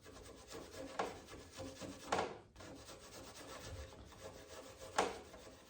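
Hand rubbing on a 1982 Buick Regal Limited chrome bumper to strip oxidation and light rust, a soft raspy scrubbing in repeated strokes with a few sharper swipes, close and quiet with no talk.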